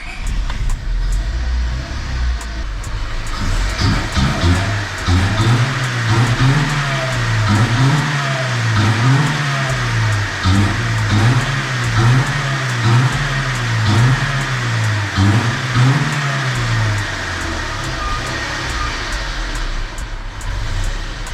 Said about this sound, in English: either way, man, the fucking motor is running. It's fucking running.